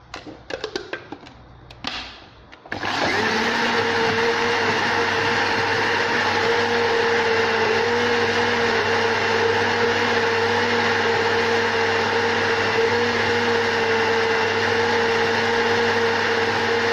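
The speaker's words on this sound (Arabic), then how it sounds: "بعد ما طحنت لي كريب ديالي مع الفليفله" After a few seconds of handling noise, a blender roars to life and grinds crepe batter with roasted red pepper, holding a steady, loud, continuous whir until the end.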